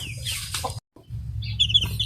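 Hens cluck softly at close range around a nest where chicks have just hatched, and faint chick peeps come in over a low background hum.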